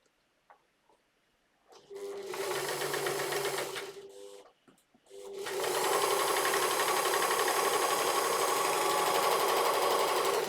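Sewing machine stitching a swimsuit seam, a steady loud whirring run of about two seconds, a short pause, then a longer continuous burst that carries on to the end.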